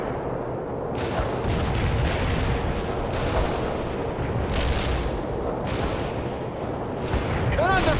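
Battlefield combat in the strategy game World in Conflict, with booming artillery and gunshots rolling in repeated heavy bursts over a dense rumbling background.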